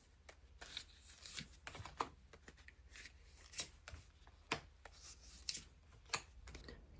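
Tarot cards are shuffled close by, with soft sliding rubs broken by crisp, irregular card slaps and taps, no speech.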